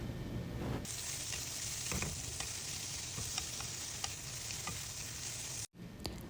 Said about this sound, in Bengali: এগুলার সাথেই আমি পেঁয়াজটা ভাজতে থাকবো।